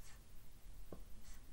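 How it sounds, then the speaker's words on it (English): Pencil writing on paper, a faint brief scratch of a few soft strokes in a quiet room. "Now we're going to write our answer to the question."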